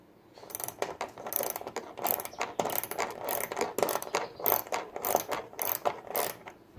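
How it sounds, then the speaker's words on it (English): A ratchet tightens the bolts on the tail light of a 1998–2006 Toyota Sienna, giving a close, rapid run of metallic clicking strokes that repeats steadily for several seconds with no speech. "After you tighten these two bolts,"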